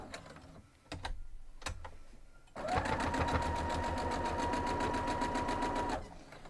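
A sewing machine stitches the seam of a Buckeye Beauty variation quilt block, a steady loud mechanical whir with rapid rhythmic needle clatter that runs for about three seconds after some brief handling clicks.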